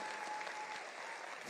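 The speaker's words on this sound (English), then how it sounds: "can we stand up and give His Excellency a round of a hearty, warm clap?" Town hall audience gives a warm round of applause for President William Ruto in Kisumu, dense and steady clapping that is fairly faint and distant throughout the short stretch.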